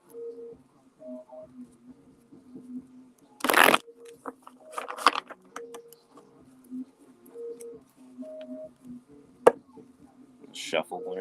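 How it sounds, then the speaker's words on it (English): A deck of cards is shuffled during a live card reading, heard as a brief, sharp riffle burst and a few shorter rustles among quiet, intermittent voices and soft tonal background sounds. "shuffle one or two more times"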